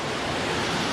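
Water flows through a leech-infested jungle forest in a steady, broadband rushing roar, close and unbroken, with no voices over it.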